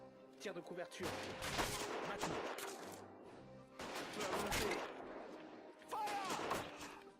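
Rifle and artillery fire crackle and boom in sustained bursts in the World War I video game Battle of Empires 1914-1918, fairly loud and continuous, with people talking amid the battle.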